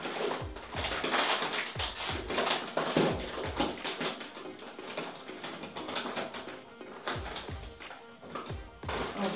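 A crinkly snack bag of chili pepper sticks being opened, dense rustling and crackling plastic with sharp irregular crinkles throughout, close up.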